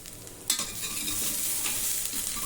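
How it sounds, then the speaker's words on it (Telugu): Ginger-garlic paste sizzles loudly in hot oil, and a spoon stirs and scrapes through it after a sharp initial clatter. The frying is close and continuous, with no talking. "అల్లం వెల్లుల్లి పేస్ట్ మీరు పచ్చివాసన పోయే వరకు కూడా వేయించుకోండి."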